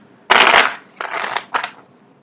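Three quick bursts of a tarot deck being shuffled close up, a long riffling rush followed by two shorter crisp shuffles, with quiet gaps between them.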